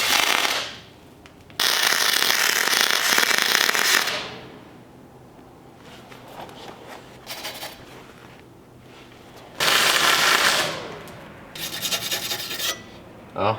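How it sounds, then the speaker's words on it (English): Aluminum MIG welding with a Hobart spool gun crackles and hisses in loud bursts of a few seconds each, separated by quieter pauses, close up and with no talking. "Gonna do some more aluminum MIG welding."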